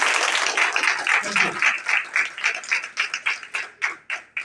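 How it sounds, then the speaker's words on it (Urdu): A church congregation applauds in praise, a dense wash of clapping that grows into louder, more separated rhythmic claps toward the end, with some voices mixed in. "تالیاں دیں خدا کے جلال کے لیے."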